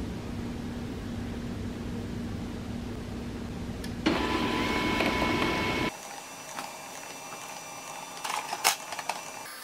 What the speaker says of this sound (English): Let's print a document.